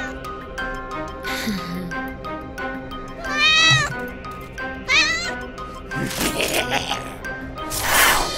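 A cartoon cat monster lets out several loud, high, wavering meows and bleating cries over a busy battle soundtrack, with bursts of noise and effects between the calls and voices talking in between.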